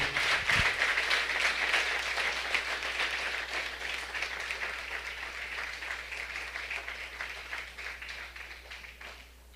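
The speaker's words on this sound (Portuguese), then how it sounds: "Pode aplaudir o Senhor, querido." A church congregation claps together during a Portuguese-language Bible school sermon, a sustained wash of applause that holds for several seconds and then slowly fades, with a low hum beneath it.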